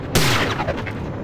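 A single heavy sniper rifle shot in the video game Prey, one loud close crack with a booming tail fading over about a second, no voices.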